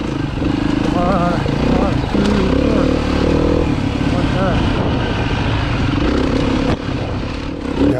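A four-stroke dirt bike engine drones steadily while being ridden, a loud, continuous buzzing roar with slight shifts in pitch throughout.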